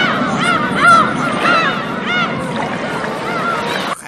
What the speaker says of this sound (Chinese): 海鸥啊，这么美妙的声音